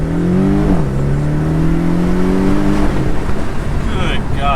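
A Porsche with a PDK gearbox accelerates hard, its engine note rising, dropping sharply at a quick upshift, then climbing again, loud and close as it pulls away.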